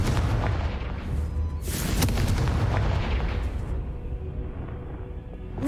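A Confringo blasting spell in Hogwarts Legacy erupts in a heavy, rumbling explosion, with a second deep boom following and the blast noise decaying slowly toward the end.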